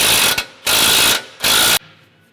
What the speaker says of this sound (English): I'll grab a 30 millimeter socket. Okay, that's in. We're gonna start to tighten this up.